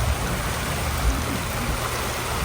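Floodwater rushing into a roadside culvert during flash flooding, a loud, continuous broadband roar and hiss of churning water, close and steady with no voices.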